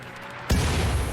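A mortar fires in the video game RimWorld as a single sudden deep boom that breaks a quiet moment and then rumbles on briefly.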